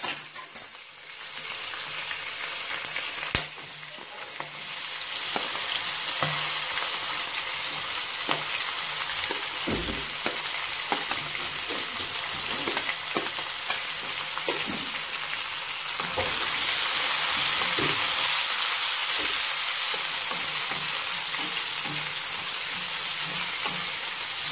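Onions and green chillies sauté in a pan for a white peas kurma, a continuous close sizzle with scattered stirring scrapes and taps, the hiss growing brighter and stronger toward the end.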